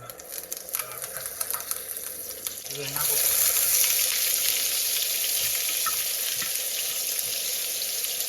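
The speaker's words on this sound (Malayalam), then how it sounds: "എണ്ണ ചൂടായി വരുന്നുണ്ട് നമ്മൾ ആകെ ഇച്ചിരി കടുകും കരിയാപ്പിലയാണ് ഇടാൻ പോകുന്നത്" Mustard seeds and curry leaves hit hot oil in a pan while pork roast is being made: a broad, steady frying sizzle swells up about three seconds in and keeps going, close and fairly loud, with no one talking.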